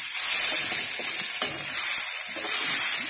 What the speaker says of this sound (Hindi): यही हमारा तड़का बन जाएगा